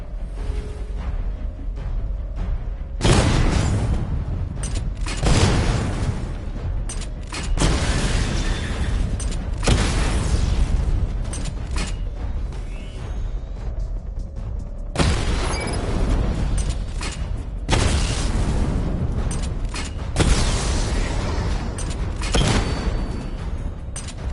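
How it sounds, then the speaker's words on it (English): A missile barrage in the Batman Arkham Knight video game goes off in a series of heavy, booming blasts, roughly every few seconds. Each one hits hard and then rumbles and fades before the next strike. "Charge the missile barrage to level 2 to destroy up to 4 targets at once."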